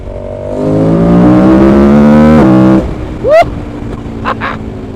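A motorcycle engine revs up loud and close, pitch climbing steadily for a couple of seconds before cutting off, followed by a brief sharp mechanical squeal and lighter rumbling idle.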